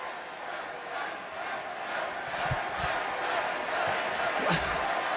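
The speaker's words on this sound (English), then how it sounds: "There's an Edge chant." A live WWE SmackDown arena crowd chants for Edge, a broad steady roar of many voices that swells slightly midway, with a commentator talking over it.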